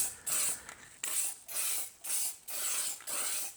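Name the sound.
spray paint being sprayed on switch cover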